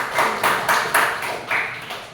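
A small class in a microteaching lesson gives a few sparse, rhythmic hand claps, about eight distinct beats at a moderate distance with a slight ringing tone.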